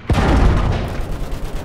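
A loud, close boom from a field cannon in the World War I shooter Battlefield 1 opens with a sharp blast, followed by a dense rolling rumble of gunfire and explosions that slowly thins out.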